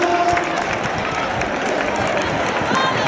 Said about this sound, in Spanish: ¡Un aplauso que se levanta!